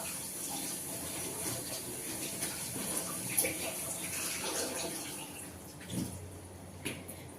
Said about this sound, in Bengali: এটাকে এখন বেগুনগুলোকে ভালো করে ধুয়ে নিয়ে আগে।